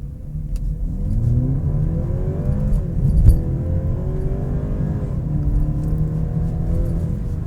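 A BMW 330i M Sport with a turbocharged engine and 8-speed Steptronic Sport automatic pulls away and accelerates. The engine note rises steadily and stays loud and close throughout, with no talk over it.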